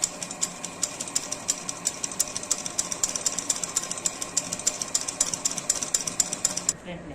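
A designer blouse is stitched on a sewing machine, its rapid even chatter running close and loud almost throughout before cutting off near the end, with someone speaking over it.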